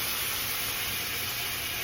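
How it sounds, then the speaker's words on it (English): Water poured into a hot pot of stuffed pork chops for gravy sizzles and hisses in a steady, loud, continuous spray of steam, close up and with no talking. "Add in that water. Listen to that sizzle, y'all."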